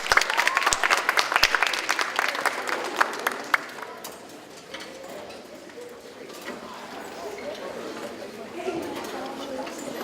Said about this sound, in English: another big round of applause for Mrs. Lyle's class